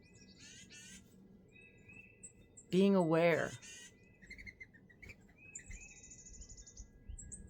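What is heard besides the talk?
bird song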